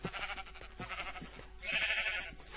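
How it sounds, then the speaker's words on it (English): Quiet sheep bleats from the Minecraft video game, a couple of short wavering calls, faint and close, with game sounds behind them. "Shut up, sheep."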